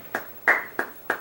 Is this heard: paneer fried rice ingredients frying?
no